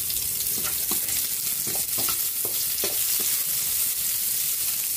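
Garlic and onion sauté in a hot pan with a constant sizzling hiss, punctuated by repeated rhythmic scrapes of a spatula stirring, close and unaccompanied by talk.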